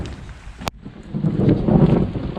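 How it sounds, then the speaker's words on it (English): After a sharp click, a low, distant rumble of thunder rolls in and builds steadily during rain. "Thunder."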